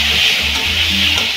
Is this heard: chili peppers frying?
yes